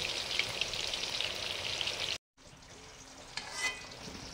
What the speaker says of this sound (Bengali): এখন ভাজছি খিচুড়ির আলু।